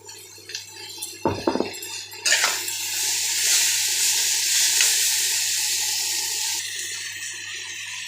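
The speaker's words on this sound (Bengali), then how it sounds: "সব সব কিছু মিশিয়ে নিয়েছি" Beans, potatoes, tomatoes and green chillies are stirred in a pan while cooking, with a steady sizzling hiss running for several seconds after a few metallic scrapes and clinks of a spoon near the start.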